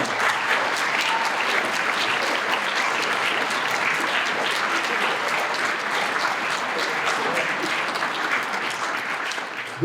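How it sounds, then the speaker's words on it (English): A school awards night audience claps for a long-serving teacher, dense sustained applause filling the room at an even level throughout, with no voices standing out. "How about a round of applause?"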